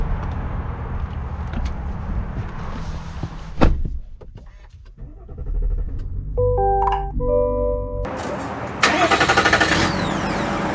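A 2022 GMC Sierra 1500 Denali pickup with the Duramax diesel cranks and fires up, a brief loud burst settling into a steady low idle rumble, followed by clicks and electronic chimes from the cabin.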